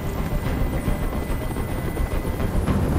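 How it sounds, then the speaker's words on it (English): A helicopter hovers overhead in the video game Detroit: Become Human, giving a steady, loud rotor drone with a rumbling low end that holds unbroken throughout. "can't stand that noise anymore! Tell that helicopter to get out of here!"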